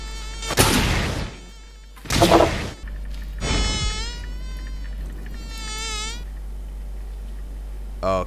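A mosquito buzzes in a One Punch Man anime scene, a thin whining drone swelling and fading repeatedly over a steady low hum, interrupted by several loud bursts of sound effects and dialogue from the show.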